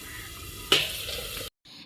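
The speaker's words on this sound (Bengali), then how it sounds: "এদিকে কড়াইতে শিম ভাজা হচ্ছে উনুনে রান্না হচ্ছে" Flat beans fry in a wok on a clay stove, giving a short burst of sizzling and stirring that flares up loudly and then fades out. Nobody speaks.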